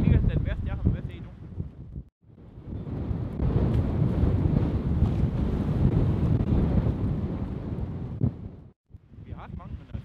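Storm wind roars across the microphone at a boat harbour with floating docks, a loud continuous buffeting that fills most of the stretch, with brief quieter gaps at the start and end where a voice can be heard.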